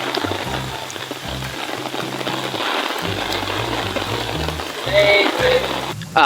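Rain falls steadily in a dense, even hiss that is loud and close. A low rhythmic thumping runs underneath, and no clear speech is heard.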